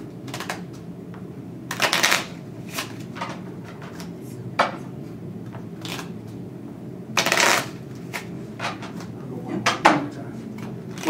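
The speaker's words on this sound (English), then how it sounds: "Give it the best shuffle that you can." A deck of playing cards is shuffled during a close-up magic show, two loud riffle bursts with a crisp cascading flutter, plus scattered shorter card snaps and handling taps over a low room hum.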